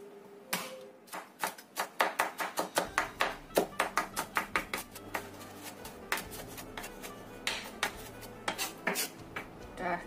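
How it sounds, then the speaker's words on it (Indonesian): Five garlic cloves are crushed and then finely chopped with a knife on a board, giving a long run of quick, sharp, even knocks close by. "aku pakai 5 siung bawang putih. Ini kita memarkan dahulu, kemudian kita cincang halus."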